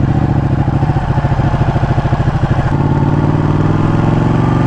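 A trike's engine chugs close by with a fast, steady pulsing throb that stays loud throughout, its tone shifting slightly partway through as it moves past.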